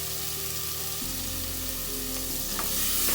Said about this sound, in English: So we will fry this until the tomatoes become soft.